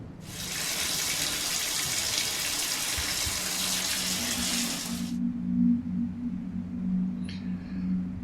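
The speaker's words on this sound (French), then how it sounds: "Je prends ma douche avant toute chose" A shower runs in the horror video game Last Guest, giving a steady hiss of spraying water for about five seconds before it cuts off, leaving a low humming room tone with a faint drip or clink.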